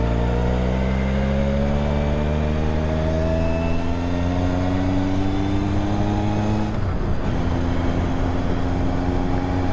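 Honda CB750 K motorcycle engine on the move, a loud steady multi-cylinder drone rising in pitch through a gear, with a brief dip at a shift before pulling again, close and continuous.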